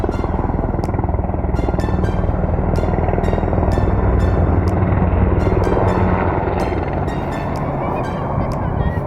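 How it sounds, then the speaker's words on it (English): A US Air Force helicopter passes overhead with a continuous, loud rotor and engine rumble that stays steady throughout, with brief sharp ticks above it. "With planes and helicopters flying overhead at regular intervals"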